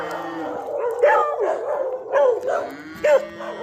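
A nearby dog lets out several loud, drawn-out barks with a howling, almost mooing tone, spaced about a second apart.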